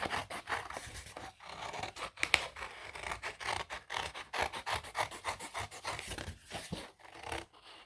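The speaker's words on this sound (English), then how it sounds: "when I have large pieces, I cut it down as small as I can." Scissors snip and scratch through craft material, cutting large pieces down small in quick, irregular strokes, close and fairly quiet.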